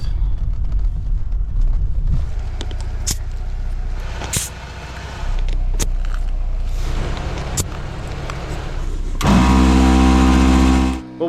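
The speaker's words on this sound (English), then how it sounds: "while the tires are airing up" A portable air compressor inflates an off-road vehicle's tires at the end of a trail in the Ozarks. Its loud, steady motor buzz drops briefly partway through, then comes back even louder.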